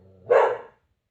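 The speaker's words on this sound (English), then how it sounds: "My dog, who just has to bark." A single close, loud bark from a dog, short and sharp, ending abruptly into silence.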